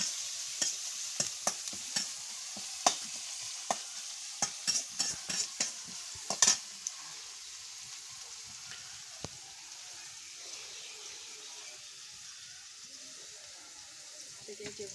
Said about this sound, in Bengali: তো এখন এই যে পেঁয়াজ রসুন দিয়ে দিচ্ছি তেলের মধ্যে।